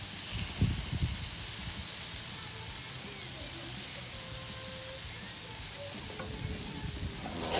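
Crawfish-stuffed catfish fries in butter with Cajun seasoning on a 22-inch Blackstone griddle, giving a steady, close sizzle and hiss that runs unbroken with a few soft scrapes.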